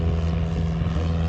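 A propeller airplane flies at an air show, its steady engine drone humming loud and continuous with a strong low throb, no pauses or speech.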